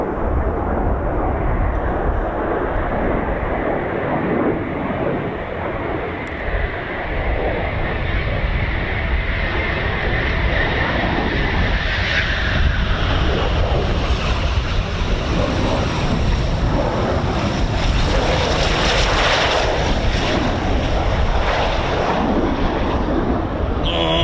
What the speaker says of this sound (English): it's Typhoon time with a few circuits from some of the Typhoons